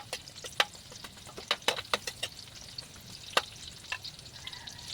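Garlic and onion fry in a pan with a crackling sizzle, broken by a quick run of sharp spatula clicks and scrapes against the metal, then quieter frying.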